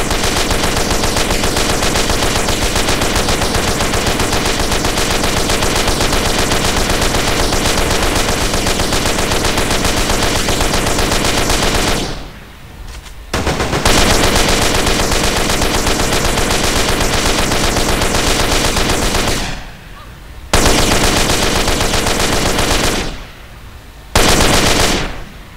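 Sustained machine gun fire in the video game GTA San Andreas, loud continuous rapid bursts that stop briefly three times before resuming.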